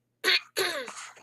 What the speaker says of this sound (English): excuse me, I'm going to clear my throat